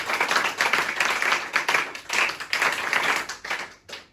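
Audience members at an indoor motivational session applaud a participant. Close, loud hand claps run in ragged, overlapping bursts for about four seconds, then thin out and stop abruptly near the end.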